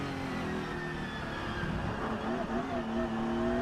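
Porsche 911 GT3 and BMW race cars at full throttle on the Nürburgring front straight, high-revving engine tones rising in pitch, heard under a race commentator's voice.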